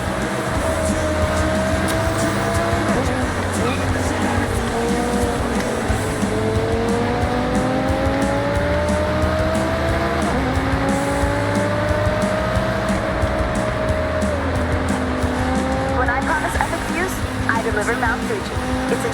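An Audi R8 V10 supercar drives in the Forza Horizon racing game, its engine droning steadily with rising and falling pitch sweeps through gear changes, loud and continuous beneath a narrating voice.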